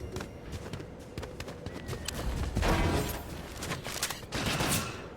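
Gunfire in an online multiplayer shooter video game comes as scattered, sharp rapid bursts and pops at moderate distance, mixed with footstep-like patter and thuds, and fades and swells in clusters.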